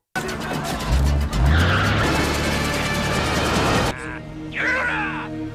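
Getaway car in an action film about two police officers in Los Angeles's Little Tokyo, its engine roaring loudly and tires skidding as it speeds off, then a sharp drop to a quieter rumble with a brief squeal.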